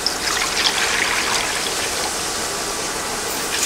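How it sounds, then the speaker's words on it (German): One liter of water is poured into a bowl while cooking fish, giving a loud, steady splashing stream that lasts the whole moment without pause. "jetzt 1 Liter Wasser."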